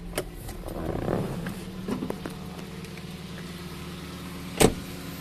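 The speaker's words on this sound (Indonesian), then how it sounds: "kita hidupkan coba mesinnya" A used car with 266,000 km on it turns over and starts, then settles into a low, smooth, steady idle nearby. A sharp click stands out near the end.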